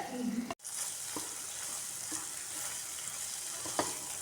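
Curry leaves frying crisply in a pan for a garlic thokku, a bright, continuous sizzle and crackle after a brief cutoff near the start, with faint stirring taps and no speech.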